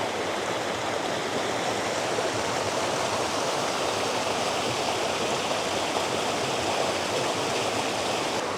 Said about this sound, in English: here's another stream dumping a lot of water in from the side